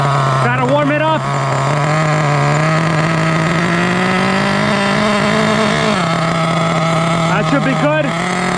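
An HPI Savage X4.6 nitro RC monster truck engine warms up after starting. It makes a loud, buzzy, steady drone with small rises in pitch, and brief blips of revving can be heard near the start and the end.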